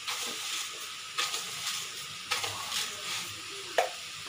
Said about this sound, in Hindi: अब इसे लगातार चलाते हुए भूनेंगे।